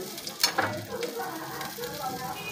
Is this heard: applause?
no